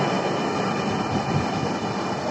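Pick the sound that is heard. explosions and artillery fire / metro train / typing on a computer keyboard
metro train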